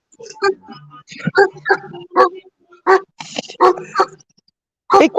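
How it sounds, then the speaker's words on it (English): A pet dog barks in a series of sharp, close barks and yips mixed with whimpers, irregular bursts separated by short pauses. "That's my dog."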